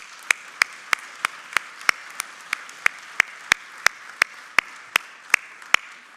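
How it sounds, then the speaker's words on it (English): Concert audience applauding the musicians at a closing arts concert: a steady, evenly spaced run of sharp, distinct hand claps, about twenty over several seconds, crisp and fairly close, with no talk. "can we just give them a round of applause for all those folks?"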